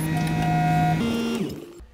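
A Vacuworx CM3 vacuum lifting attachment on a skid steer runs with its hydraulics on, making a loud, steady mechanical hum with tonal whine that steps in pitch, then drops away and cuts off near the end.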